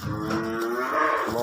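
A black buffalo that yields about 14 kg of milk lows once, a long, deep, close moo that carries through the whole moment without any talk.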